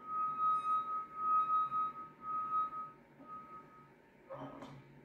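A glass hums as a vinegar-wet finger rubs firmly around its rim, giving a faint, steady tone that swells and fades in pulses with the circling strokes, followed by a brief clatter.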